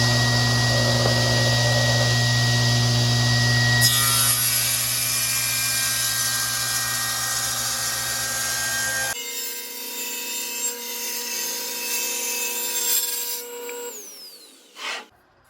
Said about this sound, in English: it's going to cut through as high as the blade goes, but not obviously go through the entire board